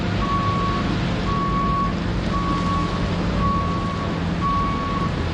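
A JCB machine reversing on a farm, its reversing alarm sounding five evenly spaced steady beeps over a loud, continuous diesel engine rumble.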